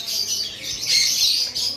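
Double red factor pet birds, sold as bonded pairs, chirp and tweet in quick, bright, close calls that overlap continuously without a break.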